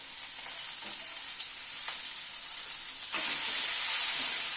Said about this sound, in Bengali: পেঁয়াজটাকে দিয়ে আলুর সাথে একটু হালকা করে পেঁয়াজটাকে ভেজে নেব।